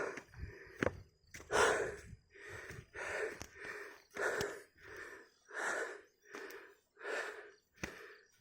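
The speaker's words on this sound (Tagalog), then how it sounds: "Sobrang hingal ko yung mga matatarik na ganito." Heavy, rhythmic panting from a person worn out after climbing steep slopes on foot, with about ten loud, close breaths in a steady in-and-out rhythm.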